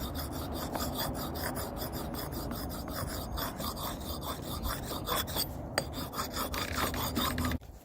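A hatchet blade being sharpened on a stone lubricated with bacon fat grease, a steady close rasping scrape in quick repeated back-and-forth strokes.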